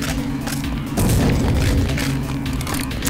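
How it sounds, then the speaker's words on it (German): A deep booming blast thuds in about a second in and rumbles on, with crackling game effects around it, from an explosion in Deus Ex in the Paris sewers. "Die explodieren doch, wenn sie sterben."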